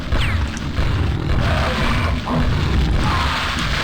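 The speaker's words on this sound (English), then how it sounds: "Just keep firing flares" Flares fired repeatedly in a monster-themed video game, heard as dense booming bursts and crackling pops close up, with no talk over them.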